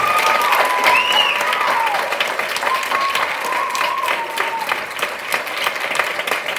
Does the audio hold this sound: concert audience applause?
yes